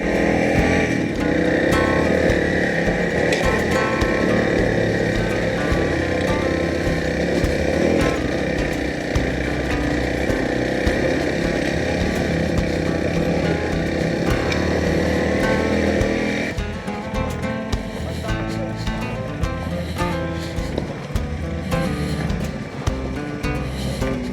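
Honda CRF 300L dirt bike engine revving hard and steadily while climbing a tricky hill, a loud continuous buzzing drone that drops slightly in intensity near the end.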